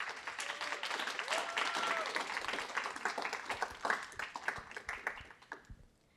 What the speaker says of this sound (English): Can we give another round of applause to the panel?